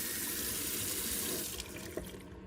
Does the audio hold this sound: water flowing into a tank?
yes